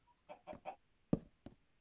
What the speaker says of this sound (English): There's like a zillion chickens, AJ!